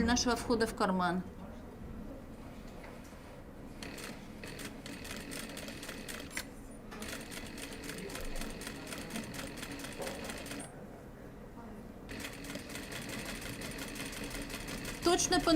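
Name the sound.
sewing machine stitching a welt pocket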